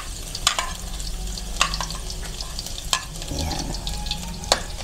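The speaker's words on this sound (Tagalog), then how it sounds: "Lagay natin yung bawang." Garlic sizzles steadily in a hot pan for spicy pork adobo, with a few sharp scrapes and clinks of a utensil stirring nearby and a brief spoken word.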